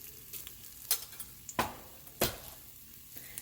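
Bay leaf and cumin seeds hit hot oil in an Instant Pot, giving a few sharp, separate sizzling bursts and light clatters over a quiet background.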